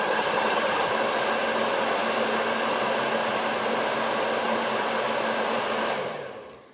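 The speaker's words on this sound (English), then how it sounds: "Again, I'm using my blow dryer, and let's heat it up." A hair dryer blows in a loud, steady roar for about six seconds, then cuts off and winds down.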